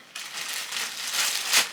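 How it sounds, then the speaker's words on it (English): Plastic bags crinkle and rustle close up as they are stuffed into another plastic bag, a continuous crackling with a sharper crunch near the end, no talking. "I'm going to put all of the plastic bags into one plastic bag"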